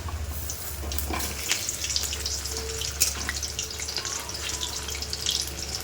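Marinated, coated fish frying in oil in a home kitchen, a continuous close crackling sizzle with scattered pops and a low background hum, no voices.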